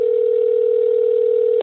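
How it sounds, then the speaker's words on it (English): Steady telephone dial tone while a call is being placed, a single continuous hum held loud and clear for over a second before cutting off abruptly. "So I'm calling LORD MICAH right now"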